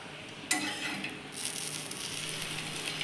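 A potato cheese sandwich sizzles in ghee on a hot pan after being flipped, with a light scrape of the turn followed by a steady, quiet crackle of frying.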